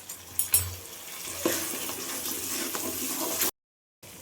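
Water splashes into a sizzling gobi manchurian gravy in a hot pan, starting with a few brief pours, then settling into a steady loud sizzle and bubbling before cutting off abruptly.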